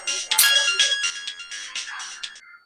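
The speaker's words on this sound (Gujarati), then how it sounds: "ઓ, હિનાનો ફોન." A mobile phone ringtone plays loud and close, a bright melodic tune of quick repeated notes that stops abruptly after a couple of seconds, with no voices.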